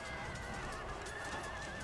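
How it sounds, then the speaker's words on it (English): Brief battle din from Empire: Total War, with horse whinnies rising over a thick, rumbling mass of hooves and combat noise, steady and moderately loud for under two seconds. "Okay, lots of horses dying by the sounds of it"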